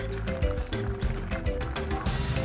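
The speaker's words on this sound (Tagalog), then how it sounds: "Ilulubog ito sa kumukulong tubig hanggang sa ito ay lumutang na para bang palitaw." Glutinous rice dough pieces dropped into a pot of boiling water, with continuous bubbling and splashy gurgling close by and a few louder plops, in Ormoc, Leyte.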